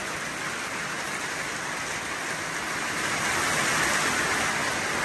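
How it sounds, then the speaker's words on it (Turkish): Heavy rain pours steadily near a beekeeper's hives, a dense continuous hiss that swells slightly louder toward the end, with no voices. "Yağmur çok güzel, kuvvetli şekilde yağıyor değerli arkadaşlar."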